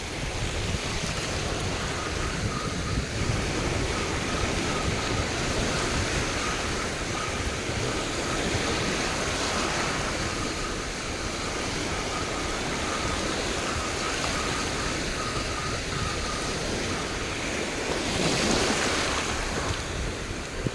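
Choppy sea waves wash continuously around a fishing spot offshore, with steady surf and strong wind buffeting the microphone at an even loudness.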